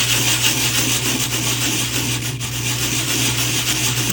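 A terrazzo keychain is sanded by hand with a coarse abrasive, giving a steady, loud, continuous gritty rubbing scrape close up with no pauses.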